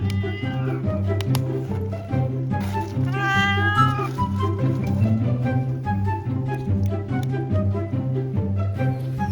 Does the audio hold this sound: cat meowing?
yes